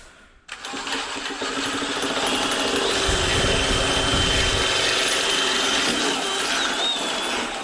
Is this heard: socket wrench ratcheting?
yes